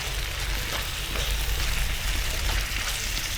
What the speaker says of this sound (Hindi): थोड़ा सा भुना चिकन।